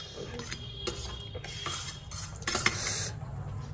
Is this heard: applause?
no